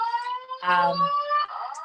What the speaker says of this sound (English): So my alarm is gonna go off a little bit.